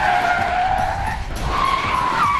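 Car tires skid and squeal loudly as a teen driver makes a quick avoidance turn during a street-survival driving course, a continuous screech lasting a couple of seconds with no talk.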